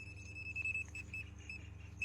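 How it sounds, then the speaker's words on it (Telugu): A Mecco clamp meter's non-contact voltage tester held near an 11 kV power line gives short, high, evenly spaced electronic beeps, faint against a low background hum. "దానికి ఆప్షన్కి మార్చి మనం 11 kVకి నియర్ 11 kVకి పెడితే అలా బీప్ సౌండ్"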